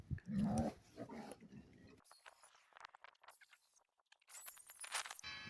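A dog growls and whimpers near the start on a homestead where fence posts are being trimmed, followed by scattered knocks and rustling, quiet stretches and a burst of bright noise near the end.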